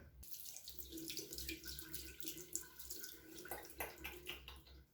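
A tap runs steadily into a sink during a bathroom night routine, a close, constant splash and rush of water that lasts throughout, with small shifts as something is wet under the stream and no talking.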